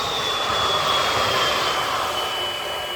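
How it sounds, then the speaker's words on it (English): A tram passes at Compton Acres, giving a steady, loud rumbling roar with a faint high whine that holds evenly for the whole stretch, with no talking. "That was the tram that brought me in from the old Market Square."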